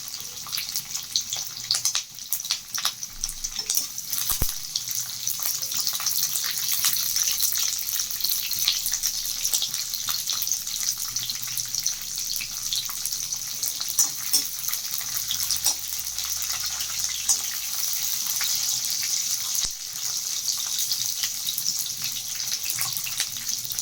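Curry leaves and green chillies frying in hot oil for mango rice, a steady close hiss and crackle with scattered pops running throughout, no voices.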